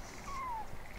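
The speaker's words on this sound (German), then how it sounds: "Ja, ja, Katzi, ist schon gut. Ich bin gleich da. Die Katzen, ne" A single short cat meow in a video game, a brief falling cry over quiet background with no talking.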